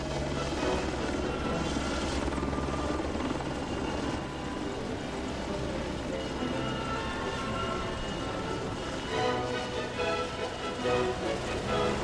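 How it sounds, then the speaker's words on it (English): Helicopters flying formation aerobatics roar in a constant, loud rotor and engine drone that holds steady throughout with no gaps, dense and close. "Helicopters too perform formation aerobatics."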